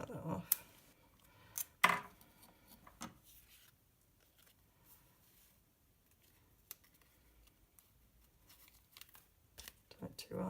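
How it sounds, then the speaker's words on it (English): Scissors cut paper in a few sharp, close snips near the start, followed by quieter scattered paper handling and rustling at low volume. "Cut that off."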